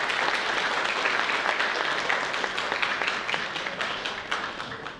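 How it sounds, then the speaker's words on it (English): An audience at an annual investor meet applauds steadily, with dense, sustained clapping from a full room that eases off slightly toward the end. "A big round of applause for Mr. Nitin Kothari."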